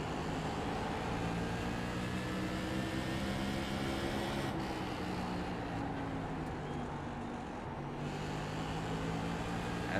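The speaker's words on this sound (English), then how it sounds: "Hear how deep these cars can go into these corners." Short track race car engines roar steadily, pitch rising and falling as the cars sweep through corners, a dense continuous drone with no pauses.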